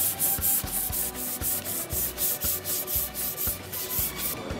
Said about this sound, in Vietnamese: Bây giờ chúng ta sẽ chuẩn bị xả nhám cho lót lần 1.